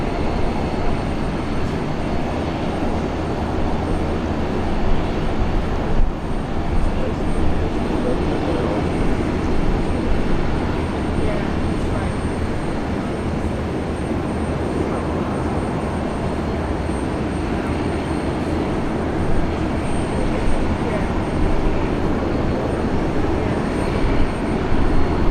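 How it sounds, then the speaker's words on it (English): A Fokker 100 jet airliner at Brisbane International Airport gives a loud, continuous broadband engine roar that holds steady throughout, with no voices over it. "One of our favourites here, the Fokker 100."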